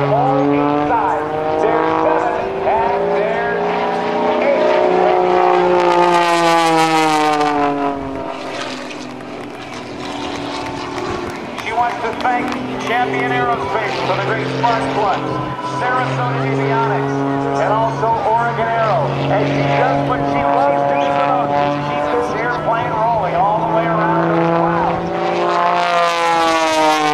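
Patty Wagstaff's aerobatic propeller airplane roars through manoeuvres at the NAS Oceana airshow, its engine note rising and falling in pitch as it climbs and loops, loud throughout, under an announcer's commentary.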